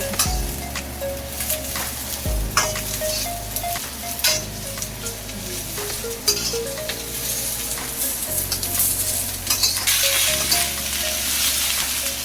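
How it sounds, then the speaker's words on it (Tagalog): Cabbage and carrots stir-frying in a pan for simple fried noodles, a loud continuous sizzle with stirring scrapes and clatter throughout. "Ilagay na natin ang repolyo at carrots."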